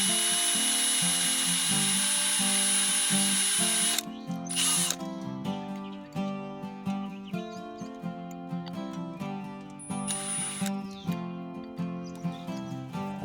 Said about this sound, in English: use the smallest drill bit you have to get a good pilot hole going